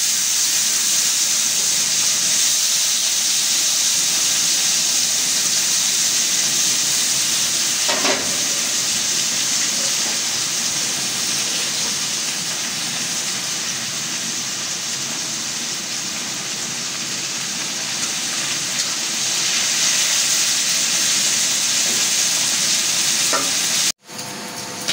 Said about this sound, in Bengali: আমি আগে মাছটা ভেজে নিই। আমার তেলটা গরম হয়ে গেছে।